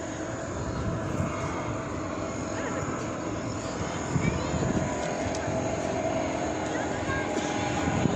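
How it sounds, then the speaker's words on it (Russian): A low-flying fixed-wing airplane drones steadily overhead above a Black Sea promenade in Adler, a continuous loud engine roar filling the whole stretch with faint outdoor background. "Вот, пожалуйста, самолет летит опять очень низко."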